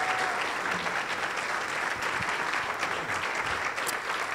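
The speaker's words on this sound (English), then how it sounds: "let's give these past presidents a round of applause" A luncheon audience at a Rotary club gives sustained applause, dense and steady clapping from a sizable crowd that fills the whole moment without voices.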